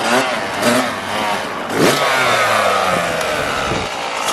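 A dirt bike engine is held at a steady rev, roaring loud and close with slight rises and dips in pitch and a brief surge partway through.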